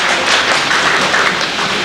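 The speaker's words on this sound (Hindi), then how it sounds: "डॉक्टर हीरालाल जी शर्मा का तालियों से स्वागत करें।" An audience at a Hindi book seminar claps to welcome a speaker, a loud, thick burst of many hands clapping close by, continuous and even across the short stretch.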